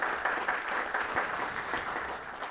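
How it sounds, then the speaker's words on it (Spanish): An audience applauding university authorities at a ceremony, even and moderately distant clapping that continues steadily throughout. "un aplauso para cada autoridad."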